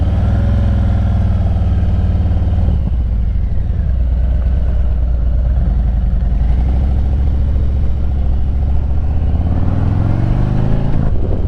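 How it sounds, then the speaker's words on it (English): Wind roars loud and steady while riding a Road King motorcycle on cold, damp roads, a dense low rumble mixed with the engine that hardly changes. "You can probably hear the wind."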